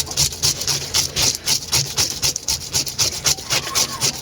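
Silver carp being scaled with a knife, a rapid rhythmic scraping rasp repeated in quick strokes, loud and close, with no talk over it.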